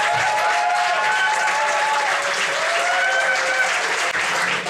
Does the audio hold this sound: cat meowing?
no